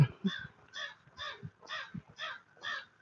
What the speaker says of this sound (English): There's a crow in this tree up here, and he's really making a lot of racket.